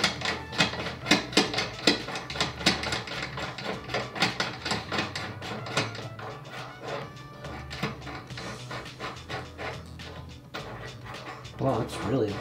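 An expander die is threaded into a reloading press while loading 44 Magnum ammunition, producing a close series of sharp metallic clicks and ticks in an irregular rhythm, with some scraping near the end.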